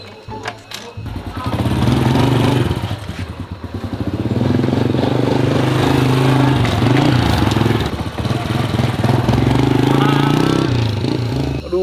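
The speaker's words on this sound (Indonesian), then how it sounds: "Pakai motornya ini aja dulu." A motorbike engine runs close and loud, its steady, rough rumble holding for about ten seconds with slight rises and dips in revs.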